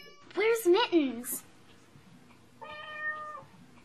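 A small kitten gives a few quick, high meows close by, then a thinner drawn-out cry follows after a short pause.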